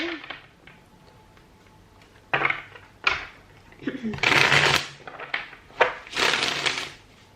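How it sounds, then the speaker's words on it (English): Tarot cards are shuffled close up: several papery riffling bursts in quick succession, separated by short pauses. "Just gonna give your cards a little shuffle here"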